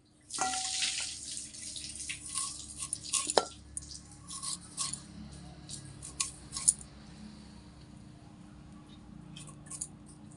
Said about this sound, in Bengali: এইভাবে পুরো চালতেটাকে কেটে নিচ্ছি